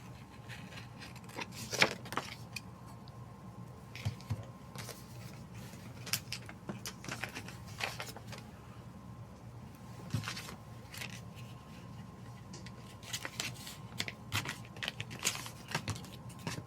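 Paper being cut with scissors for a woodland-themed planner layout, a soft run of snips and faint scraping at close range, spread sparsely over a low steady room hum with no talking.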